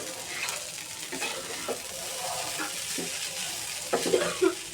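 Liver and potato bhaji stirred and frying in a pan, a steady soft sizzle with scraping stir strokes and a few louder clinks of the utensil near the end.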